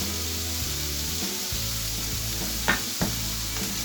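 Onions sizzle steadily in a hot pan after salt is added, a constant loud frying hiss with a few brief stirring clatters near the end and no talking.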